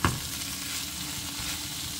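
Boiled vegetables and stalks are stirred in a pan with mustard, giving a steady sizzling hiss after an initial scrape.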